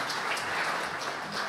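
A conference audience gives a steady round of applause for a speaker after a talk on neutral-atom quantum computing, even and fairly close with no talk over it.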